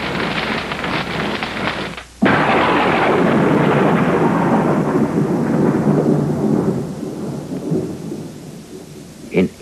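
A loud thunderstorm near the edge of the Rockies in Colorado Springs: a heavy crack of thunder bursts in and rolls on over steady pouring rain, slowly fading into hiss before a brief final rumble.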